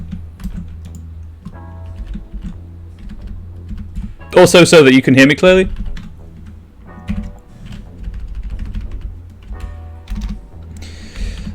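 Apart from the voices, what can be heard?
computer keyboard keystrokes while typing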